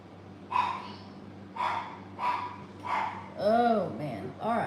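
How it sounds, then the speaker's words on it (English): A dog on a homestead barks in a run of sharp, evenly spaced woofs close by, ending in a few higher yelping cries over a steady low background hum. "I'm gonna get rid of that dog."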